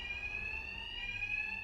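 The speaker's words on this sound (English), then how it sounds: "My attacks will be covered by the noise of the alarm" Alarm ringing during a robbery in Batman Arkham Knight, a continuous high-pitched electronic tone sounding steadily at moderate distance with no talk.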